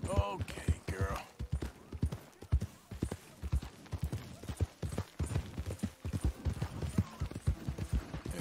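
Horse hooves clip-clop steadily in Red Dead Redemption, a quick, regular rhythm of close, crisp strikes running throughout beneath a voice talking to the horse.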